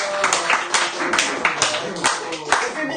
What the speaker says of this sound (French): J'aimerais pour la fin de cette émission qu'on fasse un tonnerre d'applaudissements à Julien et Romain